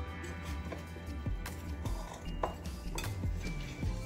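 Seafood marinade with juice is stirred in a bowl, producing close, irregular clinks and scrapes of a utensil against the dish with small knocks scattered throughout.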